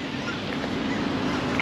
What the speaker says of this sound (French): Passage d'oies sauvages